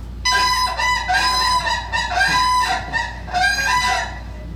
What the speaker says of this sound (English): And now I'll go ahead and play you their unison call,